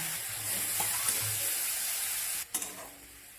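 Spices with turmeric and chili powder fry with a little water for a lentil and cauliflower dish, giving a low steady sizzle with faint stirring, then a sudden louder hiss and clatter near the end.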